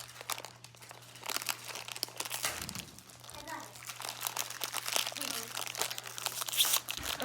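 Plastic blind bag packaging crinkles and crackles under handling and scissor cuts, close up, with someone talking over it.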